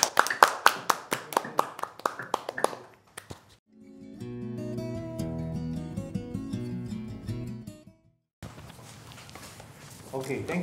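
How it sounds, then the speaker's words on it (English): Applause at a utility board of directors meeting: a short burst of clapping from a small group, distinct separate claps at first, then fading out as music and then talk take over. "Everybody, please join me in a round of applause for Mr. Carl Iwasaki, 2020 Employee of the Year of the BWS."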